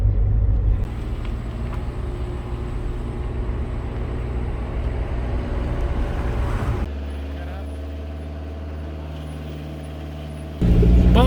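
Heavy car and jeep traffic on a paved mountain road near Gabin Jabba: a continuous low engine rumble of nearby vehicles that shifts abruptly in tone, with faint voices under it.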